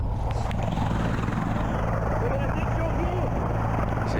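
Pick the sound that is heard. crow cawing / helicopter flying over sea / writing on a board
helicopter flying over sea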